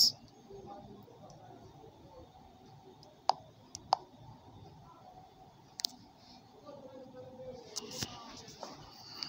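Sharp, isolated clicks of a computer mouse, spaced irregularly a few at a time, fairly faint over a quiet room hum, as someone steps through an online conversion task.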